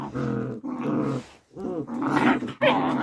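A pet dog growls in low, rough bursts, close and fairly loud, with short pauses between three or four rumbling snarls.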